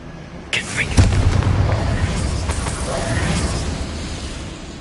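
A Confringo blasting spell goes off in Hogwarts Legacy, a sudden loud boom followed by a rumbling, crackling burst that lingers over game ambience.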